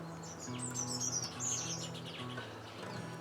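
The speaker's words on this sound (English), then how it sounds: "I'm distracted by the birds that are coming from everywhere here." Birds chirp and tweet outdoors with bright, overlapping calls coming and going at moderate distance over a low background hum, without speech.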